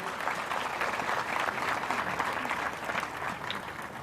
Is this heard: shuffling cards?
no